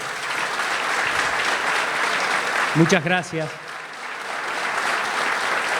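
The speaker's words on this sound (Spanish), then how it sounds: "Un fuerte aplauso." An audience applauds at an ethics conference session on Argentina's gender identity law. The clapping is sustained and even, someone briefly speaks a short thanks over it midway, and the applause carries on afterward.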